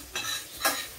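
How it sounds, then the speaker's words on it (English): Eggs being stirred together in a frying pan that just cooked mushrooms: two short, close scraping strokes with a light sizzle underneath and quiet pauses between. "now let's mix the eggs together"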